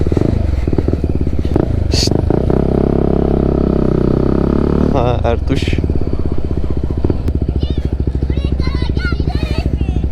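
An NK250 motorcycle with an Akrapovic exhaust runs loud and close, its engine revving up and holding before settling into a rapid, throbbing idle, with a person speaking briefly over it.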